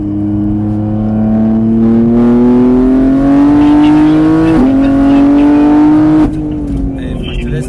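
A race car on the Mireval circuit accelerates hard, its engine note climbing steadily with brief shifts at about 4.6 and 6.2 seconds, loud and close, with a voice talking over it.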